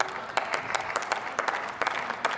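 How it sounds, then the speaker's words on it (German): Applause in the German Bundestag during a debate on same-sex marriage: a moderate patter of clapping from part of the chamber, fairly distant, with individual sharper claps scattered through. "Sogar Applaus von den Grünen,"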